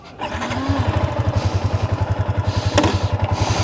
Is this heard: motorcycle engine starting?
yes